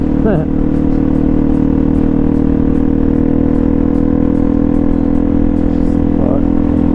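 A Yamaha TW200 dual-sport motorcycle ridden on a trail in Florida, a loud continuous engine drone under heavy wind rumble, with faint speech-like wavering sounds at the start and near the end.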